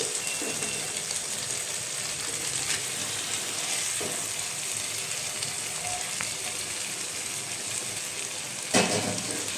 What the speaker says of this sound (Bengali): এখন দিয়ে দেব মেরিনেট করা চিকেনটা।